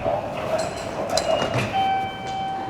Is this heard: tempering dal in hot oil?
no